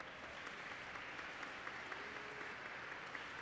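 A crowd claps during a formal solemn session in a Brazilian legislative chamber honoring Black Latin American and Caribbean women; the sustained applause is faint and distant, an even wash with no voices.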